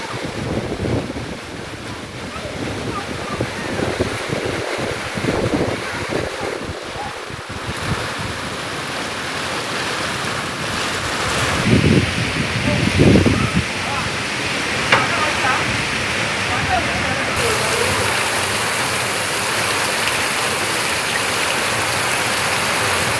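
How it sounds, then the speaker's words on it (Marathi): Heavy unseasonal rain driven by strong wind in Chiplun, Ratnagiri, a loud, constant roar of downpour and gusts buffeting the microphone, with brief louder surges partway through. "रत्नागिरीतल्या चिपळूणमध्ये वादळी वाऱ्यासह जोरदार पावसाने हजेरी लावली।"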